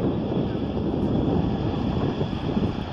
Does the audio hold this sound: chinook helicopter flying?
yes